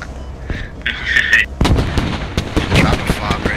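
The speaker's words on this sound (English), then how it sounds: "Squad 4 is shooting at the tank with the AP rounds right now" Gunfire at a tank in the video game Squad, with booming shots and rumbling battle noise after a brief electronic tone, while players talk over the action.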